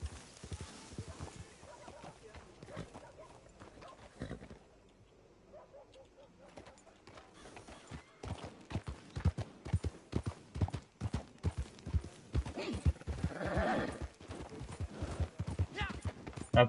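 Horse in the Red Dead Redemption 2 video game, hooves clip-clopping in a steady trotting rhythm that grows louder and busier, with a brief whinny and people talking over it.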